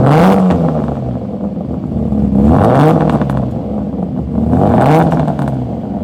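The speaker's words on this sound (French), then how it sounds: "Give it a rev." A car engine revs hard in three loud surges, each climbing then falling back, at a classic car week gathering at Quail, with a McLaren team present nearby.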